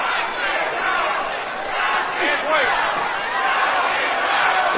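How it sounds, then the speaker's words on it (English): A boxing crowd roars steadily inside the Pensacola Bay Center during a Roy Jones Jr. fight, a dense, continuous wall of cheering and shouting voices that swells slightly without pause. "The crowd coming alive inside the Pensacola Bay Center."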